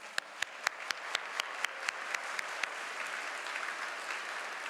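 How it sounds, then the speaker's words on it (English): Commencement audience applause, with dense crowd clapping overlaid by a run of loud, evenly spaced claps from one nearby person that fade after about three seconds, leaving the steady applause of the crowd. "Let's get a round of applause."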